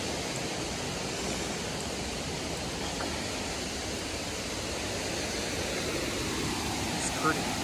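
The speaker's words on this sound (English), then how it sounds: "West Virginia waterfall trail." A waterfall at Babcock State Park in West Virginia gives off a steady, even rushing hiss of falling water, constant and unbroken throughout.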